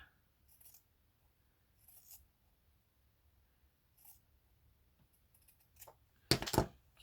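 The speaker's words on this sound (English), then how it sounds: "so we may cut some of that off" Scissors cut weaving material in a quiet room: a few faint snips, then one sharper, louder cut near the end.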